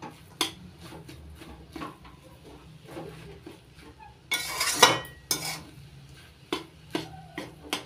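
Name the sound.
mixing banana stem paste with slit green chillies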